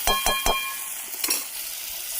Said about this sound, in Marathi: आता थोडंसं पाणी टाकूया याच्यात, शिजू देत कालवं मस्तपैकी